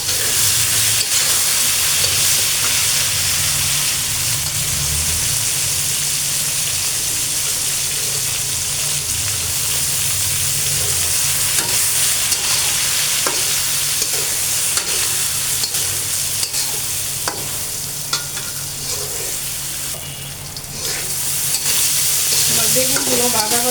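Eggplant pieces frying in hot oil in a pan, a loud continuous sizzle with repeated stirring scrapes and clatters, turmeric added partway through, no one speaking.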